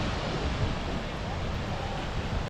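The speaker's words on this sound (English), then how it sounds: "So the name the Dianji translates thunderous due to this thunderous sound." Dynjandi waterfall in Iceland's Westfjords roars steadily up close, a dense unbroken thunder of rushing water that cuts off abruptly at the end.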